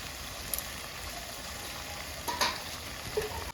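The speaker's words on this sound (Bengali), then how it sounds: "মাংসটা ঢাকা দিয়ে দিয়ে হালকা তাপে ভাজলে মশলাটা মাংসের ভিতরেও যাবে" Chicken pieces coated in spices fry in a covered pan over low heat for a Bengali chicken and mustard greens dish, giving a steady soft sizzle with faint scraping clicks.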